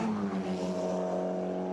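A Formula Regional race car pulls out of the pit lane at Zandvoort, its engine a steady, sustained drone held close and loud with no voices over it.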